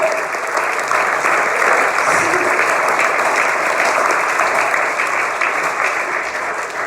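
A church congregation applauds during a sermon, a loud, dense wash of clapping that holds steady for about seven seconds with no break.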